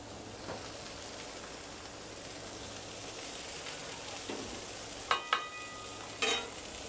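Cheesesteak taco filling cooks on a Blackstone griddle under a closed lid, giving a steady, even sizzle throughout, with a few sharp metallic clinks near the end.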